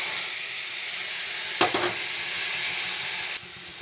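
Chopped plantain peel sizzles steadily in hot oil after mustard seeds have popped, a loud, even frying hiss with a few sharp crackles partway through before it suddenly drops quieter.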